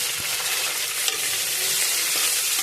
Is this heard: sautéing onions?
yes